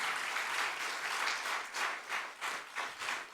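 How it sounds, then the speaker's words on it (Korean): Church congregation clapping during a Sunday morning service, a moderate, fairly quiet wash of applause with uneven rhythmic swells, no talk over it. "박수 한번 쳐주세요."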